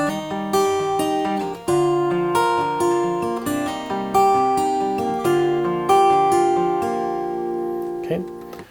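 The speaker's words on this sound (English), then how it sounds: "So this is the 3rd time through this chord progression for the guitar solo, and it will sound like this." Fingerstyle acoustic guitar solo from a song, plucked notes ringing over arpeggiated chords in a steady rhythm, close and clear with no talking, ending on a soft final strum.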